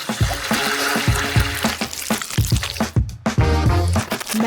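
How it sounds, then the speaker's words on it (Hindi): Gelatin, sugar and water being beaten in a bowl make rapid wet, squishy slapping strokes in a loud, close, irregular rhythm, with a brief pause before a final burst. "जेलेटिन को चीनी और पानी के साथ मिलाऊंगी"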